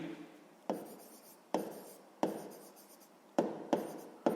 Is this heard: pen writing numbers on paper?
yes